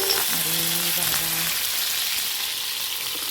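Cumin seeds and coriander leaves sizzling in hot oil for a drumstick curry, a bright continuous crackle close by, with a brief tonal sound early on over the fry.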